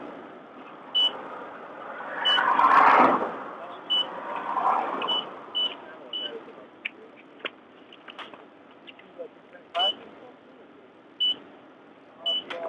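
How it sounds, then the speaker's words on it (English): Short electronic beeps repeat irregularly near a car during a roadside traffic stop, sharp and fairly close, with a burst of muffled noise and movement early on. "What is that beeping noise?"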